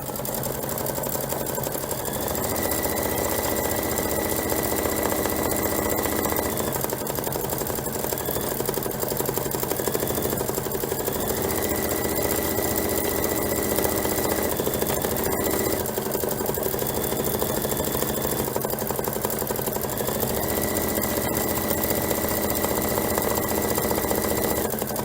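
A Kimberbell embroidery machine stitches a hoop sampler with a steady mechanical whirr. A higher whine comes and goes in repeated cycles as it moves, and the sound stays close and continuous.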